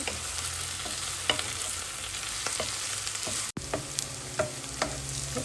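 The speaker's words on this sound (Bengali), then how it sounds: "তেলের ভিতরে দিয়ে দেবো এখন পেঁয়াজ আর কাঁচামরিচ। ভালো করে পেঁয়াজটাকে ভেজে নেব।" Steady sizzling of onions and green chillies frying in oil fills the clip, with a few scraping stirs and brief clicks over the continuous hiss.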